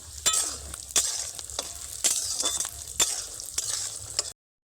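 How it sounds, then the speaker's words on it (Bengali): Raisins and nuts sizzle in a hot pan while a spoon stirs and scrapes at a steady, repeated pace, close and moderately loud. "কিশমিশগুলোকে আবার এক থেকে দেড় মিনিট ধরে বাদামের সঙ্গে ভেজে নেব"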